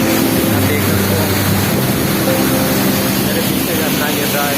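Dhareshwar waterfall crashes down in a loud, unbroken rushing hiss of falling water, close and constant, with a voice faintly under it.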